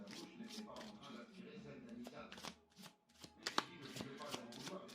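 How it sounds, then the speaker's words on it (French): Tarot cards are shuffled and drawn by hand, a series of quick papery riffles and soft slaps close by, with a voice speaking quietly over the handling. "je vais tirer une carte dessus pour en savoir un peu mieux"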